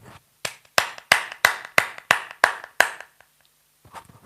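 A group claps hands together in a church or Bible-lesson gathering: eight sharp, loud claps in steady unison, evenly spaced, then a short silence with faint movement at the end.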